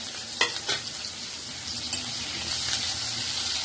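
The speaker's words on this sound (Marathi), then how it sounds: "एक लांब चिरलेला कांदा ही फ्राय करून घेणार आणि 2-3 कोले लसूणचा ही पण फ्राय करून घेणार त्याच्याबरोबर" Long-sliced onion and a few garlic cloves fry in a pan for a fish fry curry. A dense, loud sizzle fills the clip, marked by a few scraping stirs early on and one more midway.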